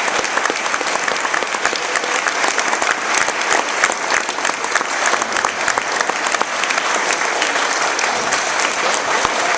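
A graduation audience claps loudly and continuously, a dense wash of applause from a crowd that holds steady throughout without any speech.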